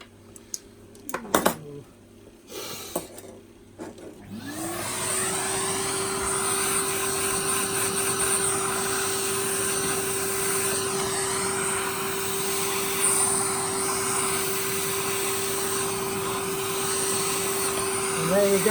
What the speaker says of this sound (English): So if you just give that a quick vacuum.